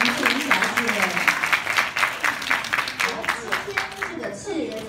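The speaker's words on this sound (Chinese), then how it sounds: "掌声欢迎我们陈小姐" Audience applause welcomes a guest onto the stage at the 52nd Golden Horse Awards, a steady crackle of many hands clapping throughout, mixed with a host's voice speaking over it.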